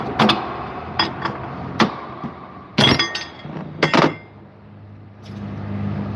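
Working with a wrench: sharp metallic clanks and clinks come in irregular bursts, loud and close, with quieter scraping between them and no talking.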